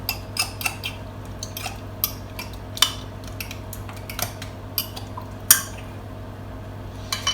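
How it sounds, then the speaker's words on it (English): Chopped ham being stirred in a mixing bowl, giving a series of light utensil clicks and scrapes against the bowl, close and fairly quiet with no talking. "We're going to give it a little mix."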